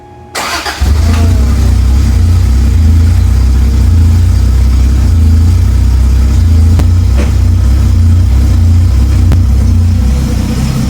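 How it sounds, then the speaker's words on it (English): A Toyota Cressida MX83 engine cranks and catches within the first second, then settles into a steady, loud idle with a deep low rumble that holds evenly to the end. "fire her up, see how she sounds"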